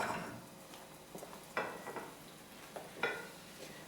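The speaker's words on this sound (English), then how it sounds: "Turn the pancake over. One side is nice and brown and cooked." A pancake frying in a pan after being flipped, brown side up, gives a soft, steady sizzle with a few scraping or stirring clicks, fairly quiet and close, with no talking.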